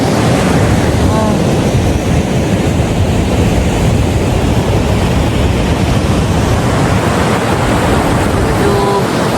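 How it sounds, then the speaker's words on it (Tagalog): Sea waves wash against the coast near Bilbao, a loud, continuous roar mixed with heavy wind buffeting on the microphone, steady from start to finish. "Ganda ng dagat."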